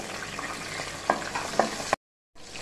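Green chillies and asafoetida sauté in hot oil, a steady close sizzle broken by a few sharp stirring clacks, then a brief dead silence before the frying resumes.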